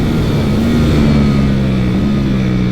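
A 2022 Ducati Panigale V4 S, 215 horsepower, runs loud and close on slick tyres with a steady, droning engine note that holds at a constant pitch and carries no speech.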